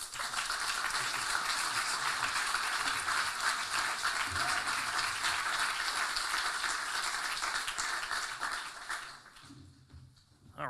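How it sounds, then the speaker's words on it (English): Audience clapping at a fall kick-off event, a steady round of applause from a crowd that holds for about nine seconds, then fades off, with some faint talk underneath. "Give them another round of applause"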